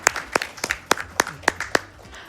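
A small group of people claps in a quick burst of about eight sharp, evenly spaced hand claps, close and clear, with faint voices underneath.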